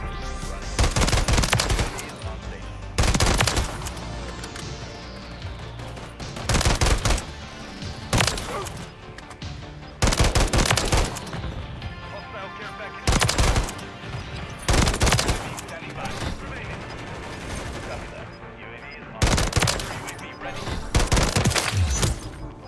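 Rapid automatic fire from an SVA 545 assault rifle in Modern Warfare 3, heard as loud repeated bursts separated by short pauses, with speech faintly under the gunfire.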